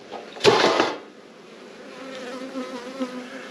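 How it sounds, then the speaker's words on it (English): Bees buzz in a steady, close hum, with a brief louder burst of wingbeats near the start, then a softer, continuous droning. "So these bees were donated by a subscriber, Robin."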